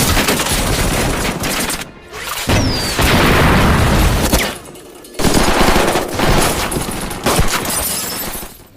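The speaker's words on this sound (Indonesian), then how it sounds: "Aksi tembak-tembakan itu pun tak terhindari lagi" Bursts of rapid gunfire rattle almost without pause, joined by heavy booms of explosions, loud and dense like a cinematic battle, with brief lulls between volleys, in a film.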